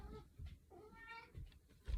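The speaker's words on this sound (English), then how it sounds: "My cat's trying to escape." A house cat meows repeatedly indoors, several drawn-out, fairly close calls with short pauses between them, over a quiet room background.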